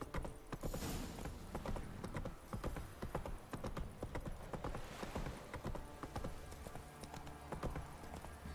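Roach the horse in The Witcher video game, trotting with rhythmic hoof clip-clops in an uneven steady beat, close and clear, with a brief whinny-like sound mixed in.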